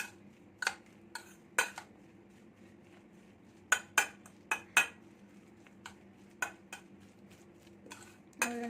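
Salted potatoes are smashed in a bowl for aloo chaat, a utensil knocking and clinking against the bowl in irregular, sharp taps close by, with quiet gaps between them.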